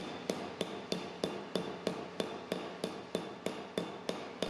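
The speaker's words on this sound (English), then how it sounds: "In the next step, the surface of the mold is tapped with a smoothing hammer." A flat smoothing hammer strikes sheet metal laid over a 3D-printed forming mold, giving about fourteen sharp, evenly spaced taps in a steady rhythm, close and clear with nothing else audible.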